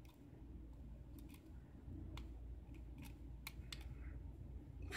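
A five-pin Abus euro cylinder lock gives small, faint metallic clicks and scrapes as it is picked, scattered sparsely over a low background hum.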